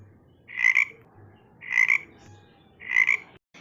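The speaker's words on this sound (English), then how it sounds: "It is the sound of frog." A frog croaks in three evenly spaced bursts, each a loud doubled call against a quiet background.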